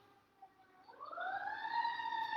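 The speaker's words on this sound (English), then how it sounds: "Oh, sirens." A wailing siren rises in pitch and swells in loudness, moving from faint to fairly close, sounding alone without any talk.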